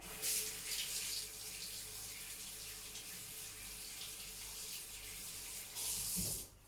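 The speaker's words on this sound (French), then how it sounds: "on nettoie bien son pinceau aquarelle" A watercolor paintbrush rinsed in water makes a soft, steady trickle and swish, faint and continuous, with a slightly louder splash at the start and again near the end.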